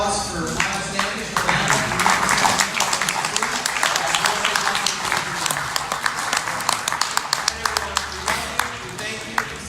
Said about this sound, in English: Let's give one more big round of applause for Miles Standish.